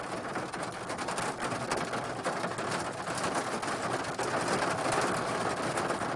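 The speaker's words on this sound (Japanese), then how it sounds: "やば、めっちゃ大雨やん。" Heavy downpour of large raindrops, a sudden summer cloudburst heard near a coin laundry, a dense steady hiss of rain hitting surfaces throughout, fairly loud with no talk over it.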